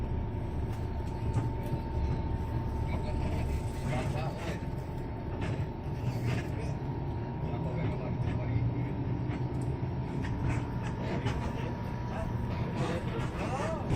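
Steady low rumble of an air-conditioned intercity bus on the Garut to Lebak Bulus route, with engine drone throughout as it moves along toward a toll gate under continuous road noise, with faint talk mixed in.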